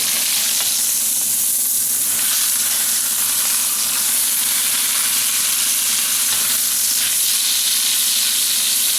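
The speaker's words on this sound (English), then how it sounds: "Going to brown the meat." Beef roast browning in a frying pan, a loud, steady sizzle and crackle of hot fat running unbroken throughout, with no talking.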